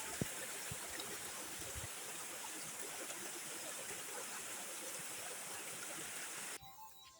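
A river in Dominica's Kalinago Territory rushes steadily past pools, a constant broadband wash of flowing water that is close and fairly soft, with no voices, before it cuts off at the end.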